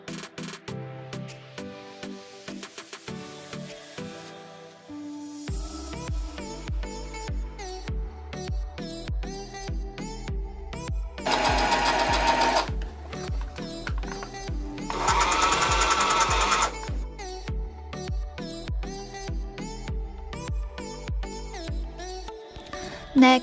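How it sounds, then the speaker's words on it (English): A sewing machine stitching fabric for high-waist shorts, running in steady rapid whirring bursts with short pauses and two longer, louder runs, close by over faint background music. "Stitching the back together, and then we are ready to sew pockets."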